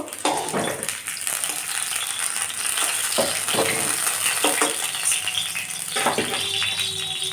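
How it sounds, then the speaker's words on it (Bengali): Pointed gourd pieces frying in hot oil for a Bengali shukto, giving a steady sizzle with occasional clinks and stirring rattles from the pan, fairly close and continuous throughout. "পটলগুলো লাল লাল করে ভেজে নেব"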